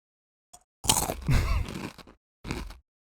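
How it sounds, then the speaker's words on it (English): Snacks crunched from rustling packets during eating, a few loud close bites and crackling chews separated by silent gaps, with no speech. "You don't have to fucking crunch"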